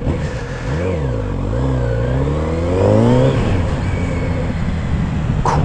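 A Kawasaki Z900RS motorcycle engine revs up and down several times, its pitch sweeping high and falling back, loud and close, with no talk over it.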